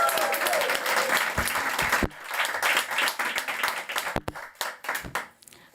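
Audience applause at the opening of a World Women House event in Davos, dense clapping that breaks off, then resumes more sparsely with individual claps dying away.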